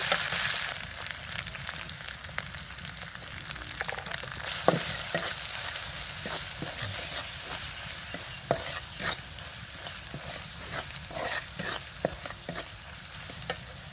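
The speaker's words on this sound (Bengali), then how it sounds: "একে একে সব মশলা দিয়ে আমি পেঁয়াজ বাটাগুলো কষে নেবো" Onion paste and spices sautéed in oil in a pan: a continuous close sizzle with scattered scrapes and taps of a spatula stirring, steady and moderately loud, with no talking.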